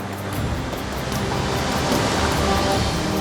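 Sea waves on a stormy Baltic coast roll and surge in a continuous loud wash, with wind noise on the microphone and no voices.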